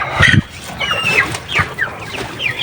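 A Rhode Island Red hen clucks close by in a run of short, repeated calls with brief pauses, loud and clear with no talking.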